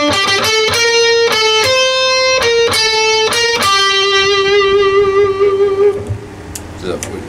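Electric guitar plays a phrase from a song's solo: a run of crisp picked notes followed by a long sustained note with vibrato, loud and up front, trailing off into scattered quieter sounds.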